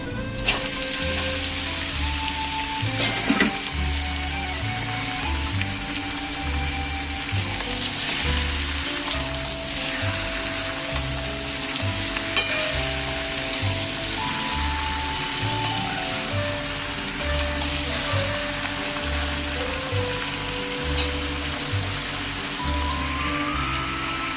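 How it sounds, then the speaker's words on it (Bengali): Washed chicken pieces hit fried onions in a hot pan and sizzle loudly and steadily, with occasional stirring scrapes and clinks over the constant crackle, no one talking. "এখন এর মধ্যে ধুয়ে রাখা মাংসটা দিয়ে দিলাম"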